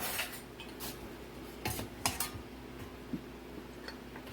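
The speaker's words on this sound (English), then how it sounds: "I'm going to get me a spoon so I can measure it." A metal spoon is taken from a drawer of cutlery in a home kitchen while making broccoli cheese soup, giving a few quiet, scattered clinks and rattles of silverware against a low background hum, with no talking.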